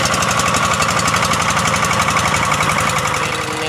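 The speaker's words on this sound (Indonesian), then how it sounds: "Ini menyusuri sungai hanya menggunakan mesin satu." A diesel engine on a traditional fishing boat chugs steadily while the boat travels along a river on one engine, a loud, rapid, even knocking pulse that stays close and constant.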